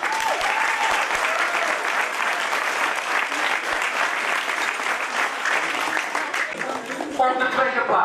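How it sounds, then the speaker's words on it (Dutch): A crowd gives sustained applause for regional Haaglanden football clubs, dense and even clapping that continues throughout, with a brief tonal sound rising near the end. "En daar wil ik een groot applaus voor geven"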